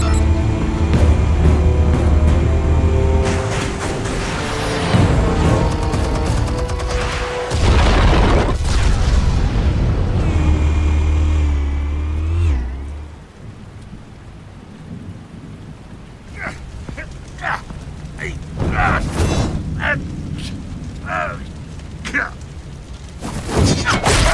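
A deep explosion in Batman: The Telltale Series booms and rumbles heavily, followed by a long low roar and scattered debris crackles after the blast fades.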